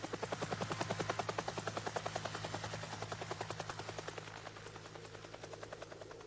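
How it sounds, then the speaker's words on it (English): A helicopter flies steadily toward the slopes of Mount Erebus in Antarctica, its rotor blades making a loud, rapid, even chop that holds throughout and fades slightly toward the end, over a constant low engine drone. "As the helicopter flew towards the point of impact, a series of photographs was taken."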